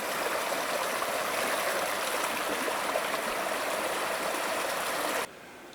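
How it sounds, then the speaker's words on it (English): Steady rushing of a creek near a backcountry campsite in Montana's Bob Marshall Wilderness, a constant broadband wash of flowing water close by that cuts off abruptly near the end. "This is our water source for camp."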